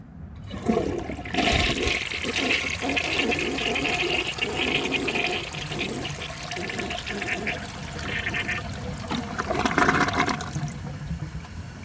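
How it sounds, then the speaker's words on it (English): A 1978 Peerless toilet with a 5-gallon flush, heard close and loud as a strong rushing flush of water that roars steadily for about ten seconds, then gurgles and begins to refill. "So now we flush."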